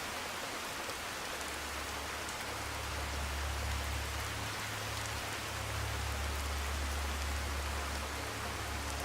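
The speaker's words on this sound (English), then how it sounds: "Rain's still going pretty heavily." Heavy rain in the video game Skyrim Special Edition pours down in a dense, steady hiss with a low rumble underneath, unbroken throughout.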